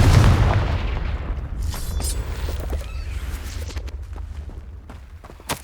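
The Confringo explosive spell goes off in Hogwarts Legacy: a heavy, close boom with a fast attack that rumbles and fades over several seconds, followed by a few light thuds.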